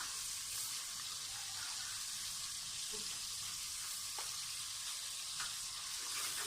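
Dried fenugreek leaves roasting in masala in a pan for a dal moong and methi dish, giving a steady, soft, even sizzle with a few faint scrapes and no talking.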